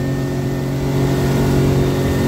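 A boat engine fitted with a new propeller revs steadily, a loud close mid-pitched drone with a harmonic hum that climbs slightly, no talk over it.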